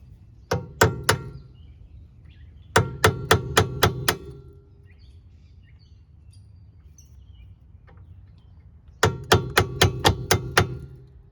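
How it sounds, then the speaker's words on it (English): A hammer strikes a nail set to drive pins out of a 1993 Mercedes 190, in three close bursts of four to six sharp metallic taps separated by quiet pauses. "I'm actually just using a nail set, if you can see that, and a hammer, and we're just going to see if I can drive these pins out"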